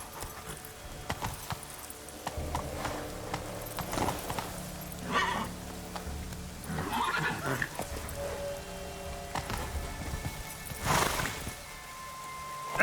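Roach, a horse ridden in The Witcher 3 game, clip-clops along with steady hoofbeats and snorts, with a whinny rising midway, all close and clear with no talking.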